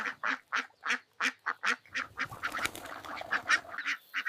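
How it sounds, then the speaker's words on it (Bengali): Ducklings on a farm quack in a quick run of separate, evenly spaced calls, then break into a denser, overlapping chatter of many small voices close by. "টাক টাক টাক, এসো হাঁসের বাচ্চারা"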